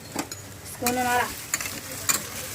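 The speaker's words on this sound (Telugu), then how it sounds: "అది ఈ విధంగా బాగా ఫ్రై చేసుకోవాలి" Turmeric, salt and chili powder stirred and fried in a pan, with a spoon scraping and a steady sizzle rising in bursts, close and fairly loud with no talking.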